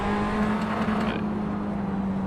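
A steady Tatuus race car engine in Assetto Corsa drones at a constant pitch with a faint whine, continuous throughout, with no voices.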